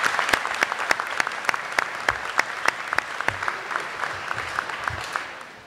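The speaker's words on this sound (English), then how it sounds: "Please give them a round of applause." An audience at a high school presentation applauds the marching band and football team with sustained, dense clapping, some distinct sharp claps standing out, and the sound fades toward the end.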